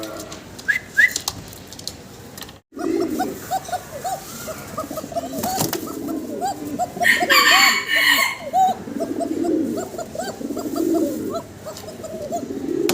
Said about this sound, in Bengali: দর্শক ককার ডাক শুনলেন আপনারা